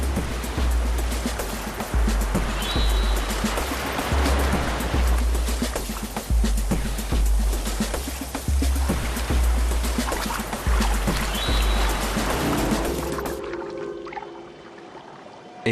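Loud, steady rushing water of river rapids where salmon swim upstream roars without a break, churning and splashing, then eases slightly at the very end.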